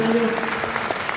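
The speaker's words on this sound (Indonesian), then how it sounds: "boleh tepuk tangan dulu." Applause from a seminar audience, clapping steady under some faint tonal background and a bit of voice in the room, fairly close and moderately loud.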